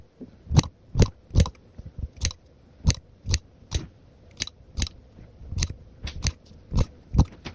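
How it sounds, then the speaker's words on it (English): Scissors snip through fabric from a baby's outgrown clothes, cutting thin strips in a steady series of crisp, close cuts with brief pauses between, alone with no talk. "We're going to cut that on both sides."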